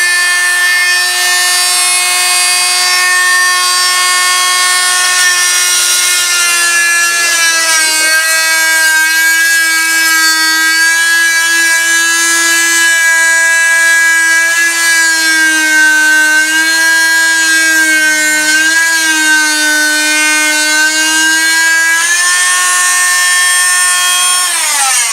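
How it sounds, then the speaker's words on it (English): A router table cutting wood for a TriLoom build: a loud, continuous high-pitched motor whine that holds steady for the whole stretch, its pitch sagging slightly as the bit bites into the wood. "We've had to break out the router table to make this work."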